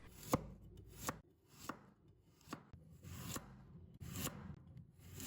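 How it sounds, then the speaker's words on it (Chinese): A kitchen knife slices a carrot into thin pieces on a cutting board, giving sharp, quiet taps at an uneven pace, about nine cuts in five seconds, with no talking. "接下来准备1根胡萝卜，把它切成薄片"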